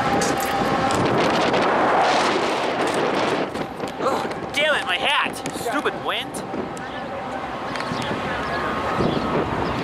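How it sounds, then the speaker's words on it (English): Gusty wind buffets the microphone outdoors beside a BNSF rail line, a steady loud roar with rumbling low end and brief surges, while people talk over it. "Wind."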